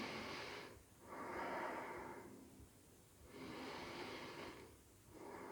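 Slow, steady breathing during a yoga twist in a flow class, long soft inhales and exhales alternating evenly, close and quiet with no talk.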